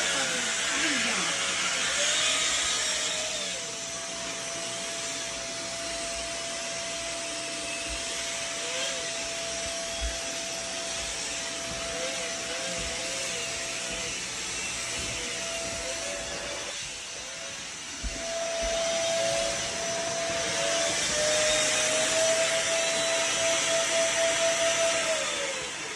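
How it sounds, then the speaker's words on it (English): Vacuum cleaner runs with a steady loud whine and hiss close by, dipping briefly near the end of the run, while people talk intermittently over it. "Vacuuming it ain't gonna help. Vacuum don't take clean."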